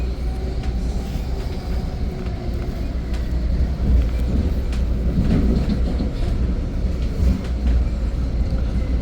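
Steady rumble and rolling hum inside an Exo commuter train travelling between Vendôme and Sainte-Anne-de-Bellevue, with a brief swell as a CRRC train passes alongside; continuous, moderately loud, no talk.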